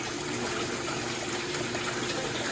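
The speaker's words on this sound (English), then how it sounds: "And I have some water flowing here now." Water gushes steadily from the drain of a water heater while its anode rod is changed, a continuous close rushing flow with no pauses.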